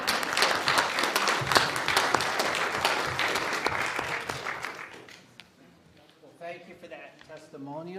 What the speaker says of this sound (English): So I say another round of applause for her.